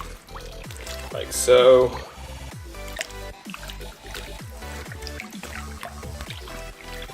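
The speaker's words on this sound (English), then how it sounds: "now I just submerge the jumper into the water" A wool jumper is pushed under soapy water and worked by hand, giving a burst of splashing and sloshing followed by repeated squelches and drips, with a short spoken remark near the end.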